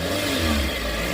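A 2004 Suzuki Every 1.3 engine revs under throttle, a close, continuous motor hum that rises and swells briefly over about a second.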